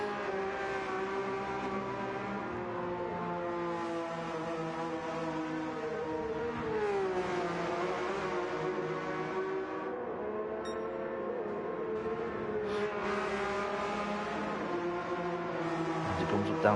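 Porsche Cup race cars circling Brands Hatch in a racing video game, a steady droning engine note with layered harmonics that rises and falls through gear changes, continuous and fairly loud, with faint talk over it.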